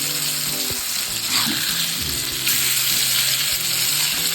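Sankara fish frying in oil in a pan, a continuous bright sizzle with light crackling and a few faint utensil sounds, close and fairly loud, with no voices.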